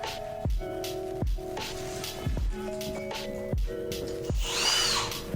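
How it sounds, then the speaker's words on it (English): A power drill spinning a 3/4 inch fly bit through wood in an 1885 school house remodel, repeated short whining bursts that start and stop several times, each ending in a falling pitch, close and loud. "what I'm actually going to be using for this is a 3/4 inch fly bit"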